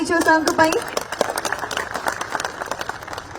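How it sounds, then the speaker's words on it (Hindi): Audience applauds Mohammed Moquim of the Moquim Foundation at a public event, brisk scattered clapping following a short burst of speech and tapering slightly toward the end. "गोटे जोरदार ताली"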